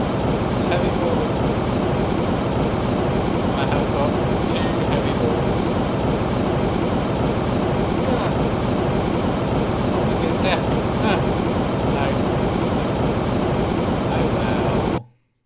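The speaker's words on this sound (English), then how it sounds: "That jet engine was really loud." A loud, continuous roaring jet engine in the Happy Wheels video game, a dense unbroken rush that holds steady throughout before cutting off abruptly at the end.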